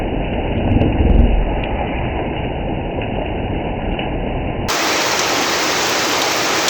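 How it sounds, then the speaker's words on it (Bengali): Heavy rain falling in a loud, continuous roar close by, the texture shifting abruptly partway through to a brighter, hissier wash, with no one speaking. "কি পরিমাণে বৃষ্টিটা হচ্ছে দেখো"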